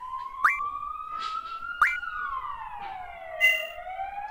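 An emergency vehicle siren, from an ambulance or police car passing in the street, wails in repeated rising and falling sweeps with sharp electronic yelps, moderately distant and clear over a quiet background.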